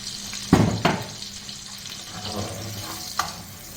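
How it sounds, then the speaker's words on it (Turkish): Onions sautéing in a pan for a green bean mıhlama, a steady soft sizzle with a few sharper stirring scrapes and clatters near the start and one more toward the end. "Soğanlarımı koyacağım şimdi. Soğanları da kavuracağım."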